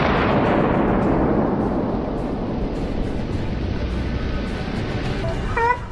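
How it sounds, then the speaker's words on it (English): Series of gunshots fired at a wild boar, heavy booming reports rolling together with a long decaying rumble, loud and continuous, a brief sharper crack near the end. "A series of shots rang out"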